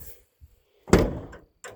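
A door on a 1978 Dodge D100 pickup truck swings shut with a single solid, close slam, preceded by faint small clicks and followed by a brief rattle.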